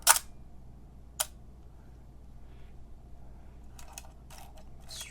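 A film SLR camera shutter fires at 1/125 of a second: a sharp mechanical click, then a second crisp click a moment later, followed by a few softer mechanical rattles, close and isolated in a quiet room.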